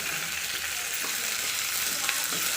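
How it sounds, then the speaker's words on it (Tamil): Tomato and coconut sautéing in oil for a Tamil-style mutton gravy, an even, continuous sizzle close by with a few soft stirring touches and no talk. "தக்காளியும் இதில் ஆட் பண்ணி நல்லா வதக்கிக்கலாம்"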